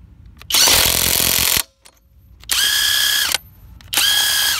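A Makita DTW285Z 18-volt brushless cordless impact wrench runs a nut back on in three loud close bursts, the first a long hammering rattle and the next two shorter with a steady whine that drops in pitch as each stops.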